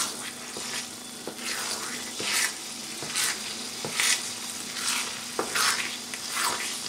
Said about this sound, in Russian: Так, перемешиваем.